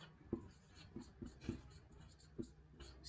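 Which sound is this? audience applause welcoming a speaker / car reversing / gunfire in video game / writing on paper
writing on paper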